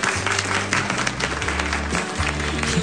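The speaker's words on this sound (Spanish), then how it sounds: "Un aplauso para ese mensaje." A studio audience on an Argentine comedy show claps continuously, a dense, steady wash of applause with no pauses.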